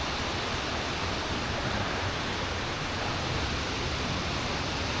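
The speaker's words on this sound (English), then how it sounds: "get just a little closer to the water here and the waterfall" A waterfall in a Japanese forest, heard from nearby as a constant dense rush of water that stays loud and even throughout, with no speech.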